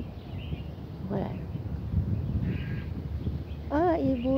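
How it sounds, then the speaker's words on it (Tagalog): A few short bird calls from two birds perched overhead in a park ring out over murky background noise, with a clearer chirping call near the end; distant and intermittent. "May dalawang ibon sa taas. Sila pala yung kumakanta."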